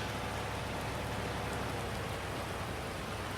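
Steady rain falls in Farming Simulator 19, a continuous dense hiss of drops on surfaces that stays even and unbroken throughout, with no voices.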